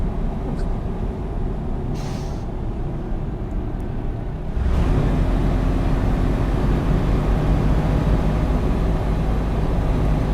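Truck engine in the American Truck Simulator video game, a steady deep rumble that grows louder and heavier partway through and then holds, with people talking over it.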